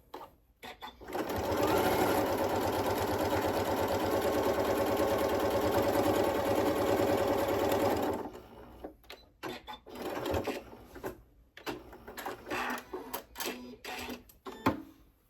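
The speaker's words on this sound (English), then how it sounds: "we're going to top stitch just along the top edge to make it look nice" A sewing machine runs a steady, continuous top stitch along the upper edge of a two-toned zipper tote bag at a longer stitch length, loud for about seven seconds before stopping, followed by scattered handling clicks and rustles.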